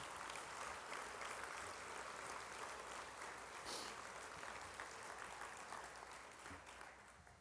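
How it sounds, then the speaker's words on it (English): Audience at an innovations conference session applauding, a steady wash of many hands clapping that stays fairly faint and distant throughout, easing slightly toward the end. "Can we just give him a big round of applause for doing this?"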